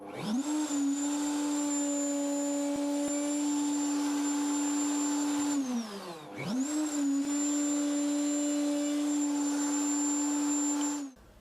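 A router mills scrap wood in two passes, giving a loud steady high whine that dips briefly midway as the bit slows and recovers, then runs on before stopping.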